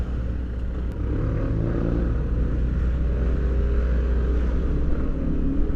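A parked FKM Venture 150 motorcycle idles steadily after weeks unused, its low engine rumble constant and close throughout with no talking.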